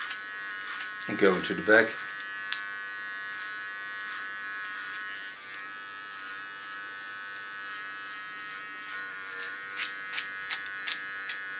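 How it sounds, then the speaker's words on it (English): An electric hair clipper buzzes steadily while cutting short hair at the back of the head, a continuous close hum with someone speaking briefly over it near the start. "then I'm going to work up with my clipper"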